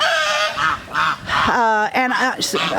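A farmyard goose in a chicken yard honks loudly and close by, giving several harsh, nasal calls in quick succession that run together over nearly three seconds with no gaps.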